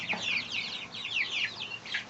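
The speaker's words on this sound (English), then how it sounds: "These are Silky chicks" Silkie chicks peep in a dense, overlapping chorus of high chirps, close by and steady throughout with no voices.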